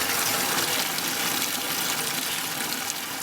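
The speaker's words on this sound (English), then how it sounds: "Gives the fish plenty of oxygen, plenty of water circulating." A DIY jon boat livewell pump circulating water, a steady close rushing and splashing gush that continues evenly throughout with no talk.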